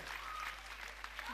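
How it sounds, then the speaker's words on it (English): A congregation claps hands during a church service, a faint, steady patter of many palms lasting throughout, with a voice speaking over it. "Clap hands for Jesus."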